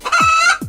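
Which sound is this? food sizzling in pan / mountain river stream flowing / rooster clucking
rooster clucking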